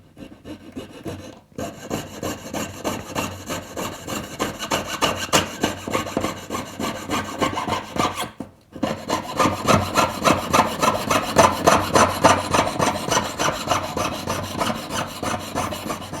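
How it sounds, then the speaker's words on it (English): A small jeweler's saw blade, lubricated, cuts through silver bezel tubing in fast, rhythmic rasping strokes, loud and close, pausing briefly twice before resuming the steady back-and-forth scraping. "Bit of lubrication on that blade and just cut through this tubing."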